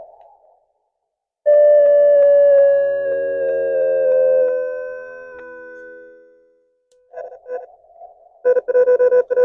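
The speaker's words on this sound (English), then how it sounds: "As you rotate the knob, it's going to emit a pitch at that frequency." Elecraft KX2 radio emitting its CW sidetone at 500 hertz: a loud, steady pure tone held for several seconds and slowly fading, then short bursts of tone near the end.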